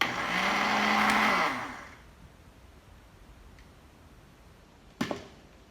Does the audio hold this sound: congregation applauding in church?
no